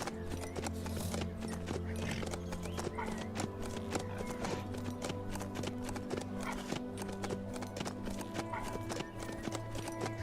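Steady clip-clop of horse hooves as a rider travels in the survival video game HumanitZ, a rapid, even gait heard close over a background game music bed.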